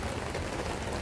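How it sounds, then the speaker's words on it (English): Heavy rain pours down steadily, a dense, even hiss of drops drumming on surfaces, loud and unbroken with no voices. "Now it's raining a lot."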